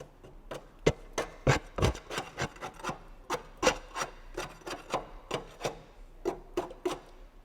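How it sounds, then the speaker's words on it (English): A big hand scraper rasps repeatedly across the underside of a Grasshopper zero-turn mower deck, knocking off caked debris in a quick irregular rhythm of sharp, close strokes. "we got a nice big scraper that we can get in here"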